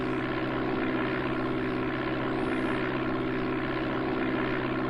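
Propeller airplane engine in the Amiga game Flight Simulator II, a steady loud droning hum with a constant tonal pitch running throughout, no voices.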